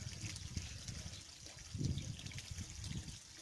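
Water trickles and dribbles steadily into a trough where farm animals drink, a soft continuous flow with low splashing, fairly quiet and without talk.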